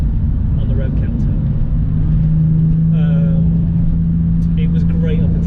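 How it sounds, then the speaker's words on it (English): A Porsche 911 engine with 150,000 miles holds a loud, steady drone as it runs up against the rev limiter, a constant low rumble with a rising tone through the middle and faint higher chirps on top. "I just redlined it in first, and in second I hit the limiter"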